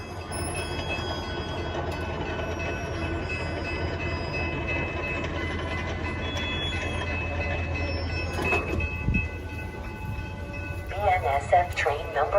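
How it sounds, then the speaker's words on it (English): A BNSF commuter train to Chicago Union Station arrives at the Downers Grove station, with a steady low rumble of the train rolling in, brief squealing toward the end and a station announcement voice over it. "BNSF train number 1228 to Chicago Union Station is now arriving."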